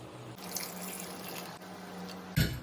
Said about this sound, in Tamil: இது கூட புளி கரைச்சி ஊத்திக்கலாம்